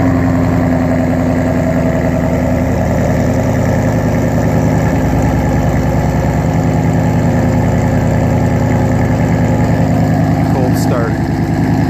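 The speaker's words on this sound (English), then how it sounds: "Cold start." A supercharged 2017 Ford Mustang with a Roush Phase II 727 hp kit idles loud and steady after a cold start, a continuous low engine rumble filling the whole stretch with a brief shift near the end.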